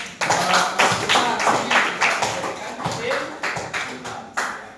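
A classroom group claps in a series of sharp, fairly loud hand claps with a rough rhythm, each one distinct, during a lesson on the human digestive system.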